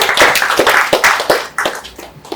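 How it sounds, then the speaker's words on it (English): A small audience at a health and wellness app launch in Ghana claps in a loose, uneven rhythm of sharp, close hand claps that thin out and fade toward the end, with no talk. "I think we should clap there."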